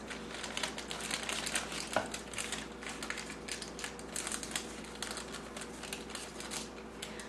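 Wax paper crinkles and crackles in irregular bursts while chicken, bacon, garlic and onion empanadas are folded and creased, close and continuous.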